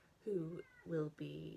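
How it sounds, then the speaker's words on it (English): A pet cat yowls indoors in three drawn-out, wavering cries, close and fairly quiet, with a voice faintly present alongside. "That's just my cat yowling."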